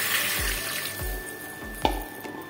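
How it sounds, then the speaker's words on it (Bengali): Water is poured into a cooking pot of mango and shol fish curry: a brief, soft splashing trickle with a few low thuds, fairly close and fading out. "আমি এবার দিয়ে দিচ্ছি জল"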